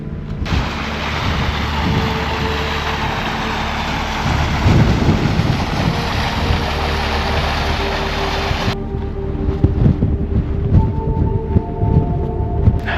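Wind blowing across Bleaklow, a misty, wet moor in the Peak District. It makes a loud, steady, rushing roar that cuts off sharply partway through and leaves a lower gusting rumble.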